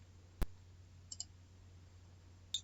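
Sharp mouse clicks while trusting a browser certificate: one loud click, a faint double tick about a second later, and another click near the end, over a quiet hum.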